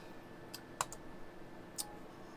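A computer mouse clicks a few times in a quiet room, two or three sharp, close taps spaced about a second apart with faint background hum.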